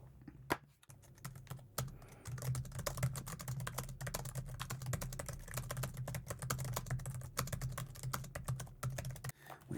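Typing on an older laptop with a thick chassis and deep key travel: dense, rapid clacking keystrokes in a steady stream, close and clear, with a brief pause near the start and no talking.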